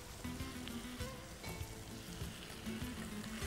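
Chili powder, turmeric and coriander powder fry in a pan with a soft, steady sizzle and faint crackles, quiet and close, with a few light clinks of stirring.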